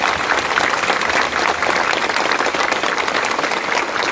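Congregation at an outdoor Palm Sunday Mass applauding the altar servers and children, a steady, dense wash of many hands clapping throughout.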